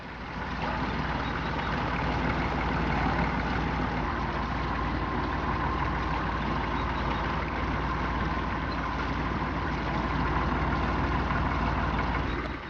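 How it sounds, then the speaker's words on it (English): A narrowboat's diesel engine runs steadily in a loud, continuous chugging drone with an even rhythm and no talking, a working canal boat that leads a pair. "the specially built narrowboats, as they are called, work in pairs, the leader propelled by a diesel engine"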